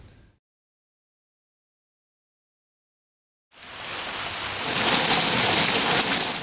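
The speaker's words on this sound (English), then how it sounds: "because it's starting to rain" Rain starting to fall on a deep mulch garden, a steady broad hiss of drops that swells after a few seconds of silence and stays loud and dense.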